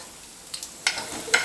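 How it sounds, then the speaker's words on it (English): Sugar caramelizing in a hot pan as it is stirred, a soft sizzle with three short scraping bursts over a quiet background. "The sugar is caramelizing. We'll constantly saute it"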